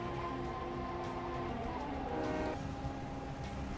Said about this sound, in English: It's so weird hearing a train